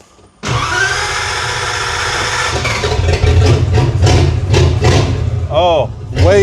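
An engine cranks and catches after a battery is hooked up, settling into a loud, steady running rumble with a few sharper throttle blips near the end, a voice speaking over it.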